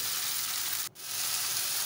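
Onions fried in ghee sizzle steadily in a pan with turmeric, salt and chillies stirred in for baghare baingan, a broad hiss that briefly cuts out mid-clip before resuming.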